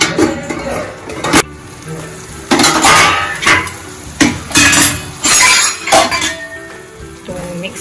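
A spoon clanks and scrapes against a metal dish while vaseti bhaji is stirred, giving a series of loud, irregular clinks and rattles close by with short pauses between bursts.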